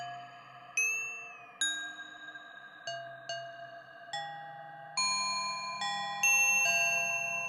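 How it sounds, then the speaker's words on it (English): Bright, ringing temple-bell-like tones from a Eurorack modular synthesizer struck one after another, each chime sustaining with a shimmering decay over a low drone, steady and clear. "I love that like temple bell sound."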